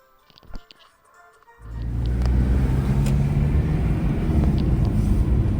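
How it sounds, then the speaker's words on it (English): A car on a long gravel road in Namibia: after a quiet moment with a few light clicks, a loud, steady rumble of tires and engine starts suddenly and holds close and continuous. "We are excited and yet worried about 5 hours on a gravel road."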